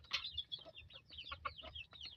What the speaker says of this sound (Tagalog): Ayan, mga tandang yan guys.